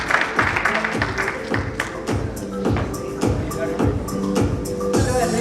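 An audience at an awards reception for global women of excellence claps in a burst of applause, with scattered taps and thumps mixed in and some voices underneath.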